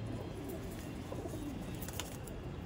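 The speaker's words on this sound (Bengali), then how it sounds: "এই যে পায়রাটা দেখা, এই যে এই ডানাটা ভাইব্রেশন করছে।" Pigeons cooing close by in a continuous low, burbling drone, with faint bird chirps above it and no speech.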